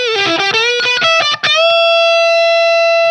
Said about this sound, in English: we get this overdriven or distorted sound like this.